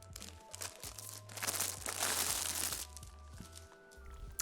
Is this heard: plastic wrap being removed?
yes